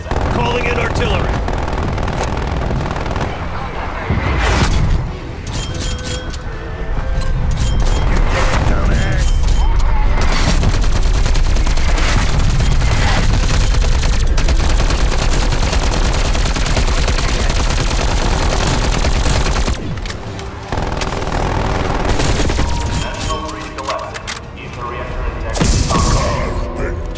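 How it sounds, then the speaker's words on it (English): Artillery strikes and gunfire roar through the Firebase Z zombies map, a dense, loud barrage of thuds, booms and rapid automatic fire that runs almost continuously, with brief lulls and voices mixed in. "Calling in artillery!"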